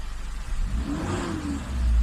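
The engine of a Mitsubishi Adventure with a faulty RPM gauge revs up with a rising mid-pitched whir and roar, building louder toward the end, close and alone without talk.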